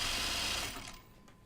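Sewing machine stitching a hem slightly wider than a half-inch seam allowance on a top, a steady fast whir running continuously before tapering off and quieting near the end.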